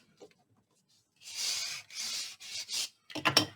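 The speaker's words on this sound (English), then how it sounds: "Go ahead and burnish that down." Soft, close rubbing strokes, about four in a row, come as paper is burnished down on a Halloween folio craft project. A brief scratchy rustle follows, and the room is otherwise quiet.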